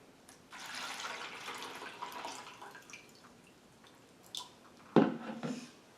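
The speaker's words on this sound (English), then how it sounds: "You just fill your bowl with water." Water pours into a bowl for about two seconds in a soft, fading rush, followed by a few quiet drips and a sharper splash or clink near the end.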